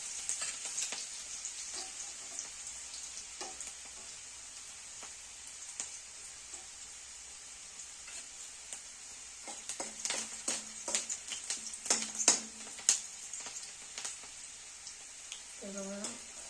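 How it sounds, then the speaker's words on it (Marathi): Onion frying in a pan for misal pav, a faint steady sizzle with scattered clinks and scrapes of stirring that grow busier near the end. "कांदा असं घालावा भाजत लाल असं अजून थोडा भाजत द्यायचा"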